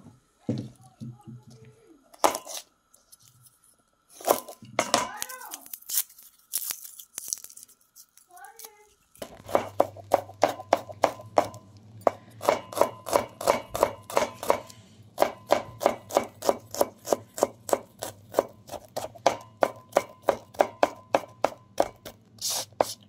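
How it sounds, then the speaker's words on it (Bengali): Garlic chopped with a knife on a board, a long run of rapid, evenly spaced close knocks following some earlier handling noises and brief talking. "রসুনগুলো আমি কুচিয়ে নিলাম"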